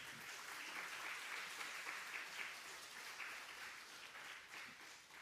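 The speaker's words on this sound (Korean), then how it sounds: "목사님 나올 때 우리 축복하는 박수하겠습니다." A church congregation at a Sunday morning Korean worship service applauds to welcome the senior pastor, a faint, even wash of many hands clapping that holds steady throughout, heard from a distance.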